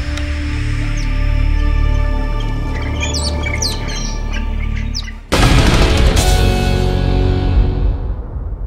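Birds at a royal palace grounds, loud overlapping squawks and chirps from a close flock, followed by a sudden burst of rustling flutter and noisy calls as they scatter.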